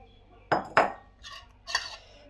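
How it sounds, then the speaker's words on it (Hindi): Chickpeas tipped into a bowl of fruit chaat dressed with tamarind chutney, heard as two quick clinks of a spoon on the bowl and then a softer rattle and scrape, close and without speech. "अब मैं डालूंगी इसमें चने"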